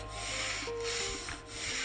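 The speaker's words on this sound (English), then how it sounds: "I smoothed out any sharp lines by lightly sanding them for a softer, more polished look on the body of the table." Light hand sanding on the painted body of a DIY accent table, a steady close rubbing scrape with soft back-and-forth strokes and no voices.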